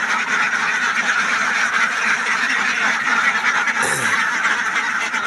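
A dense, continuous chorus of many ducks quacking and honking together at a duck farm, loud and close, with no talk over it.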